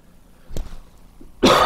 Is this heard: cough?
yes